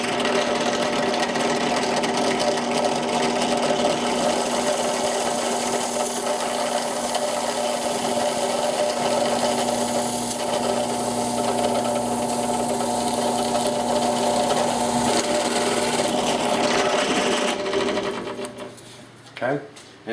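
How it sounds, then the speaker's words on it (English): A Forstner bit drills a hole through foam board held against two fence pieces, giving a continuous loud whirring grind that runs for most of the span before winding down and stopping near the end. "and we'll go ahead and drill this hole."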